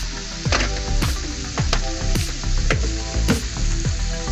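Masala with salt and a little sugar sizzles loudly in oil while being stirred, with regular spatula strokes scraping the pan about twice a second over a constant frying hiss.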